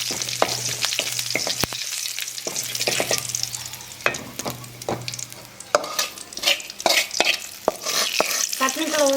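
Mustard seeds and a broken dried red chilli sizzle and crackle in hot oil for a radish chutney tempering, with sharp pops and stirring scrapes close up and no talk.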